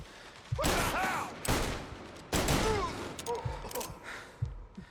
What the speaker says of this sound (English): Someone got a machine gun down the back.